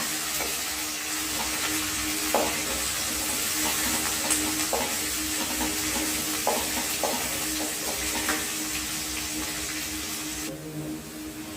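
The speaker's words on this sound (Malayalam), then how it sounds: "എല്ലാം കൂടി ഇളക്കി കൊടുക്കുകയാണ്" Curry leaves, ginger and a fish curry base being stirred in a pan for Kerala-style fish curry, a continuous hissing sizzle with soft periodic scrapes of the spoon, steady and close, ending abruptly.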